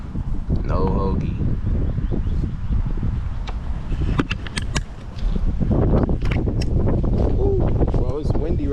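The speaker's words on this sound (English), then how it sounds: "it's windy right now" Gusty outdoor wind buffets the microphone as a loud, continuous low rumble, with a few muffled vocal sounds breaking through.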